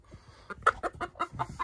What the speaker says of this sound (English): Chicken's freaking out.